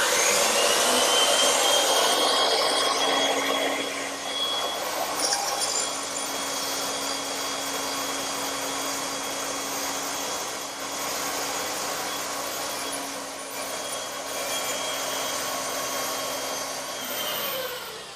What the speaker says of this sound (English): But ideally, it's nice to have a bandsaw like this one.